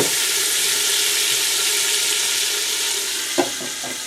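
Onions fry in olive oil with a steady, close, broad sizzle that holds evenly throughout, followed near the end by a soft stirring knock.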